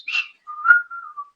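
Person whistling alone, close and clear: a short rising note, then a longer sustained tone that slides and wavers before trailing off.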